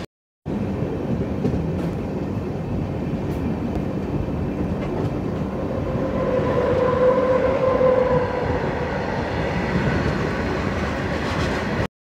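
The 16351 Balaji Express runs along the track, heard from the open carriage door, with a steady, loud rumble of wheels and wind that builds slightly midway. No one speaks.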